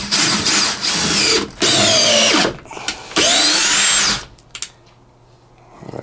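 A DeWalt 18/20 volt compact drill drives screws in three loud, sustained whirring bursts of about a second each, the pitch sagging as each screw seats, followed by quiet handling clicks.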